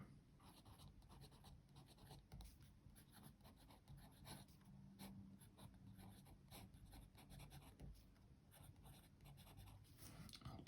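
A white Kaweco Klasik Sport fountain pen writes on paper with faint, close scratchy strokes in an irregular rhythm, steady throughout and with no talking.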